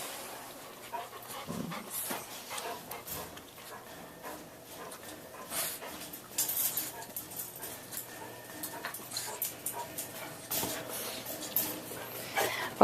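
Several dogs pant close by and give occasional whimpers, with scattered small clicks and shuffles, and no talk.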